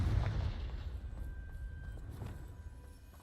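A Confringo blast spell in Hogwarts Legacy erupts in a heavy low boom at the start, its rumble rolling on and slowly fading over a few seconds with no one talking.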